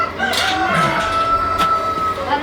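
A chicken clucks and a rooster crows nearby on a dairy farm around milking time, with background farm noise and brief faint voices.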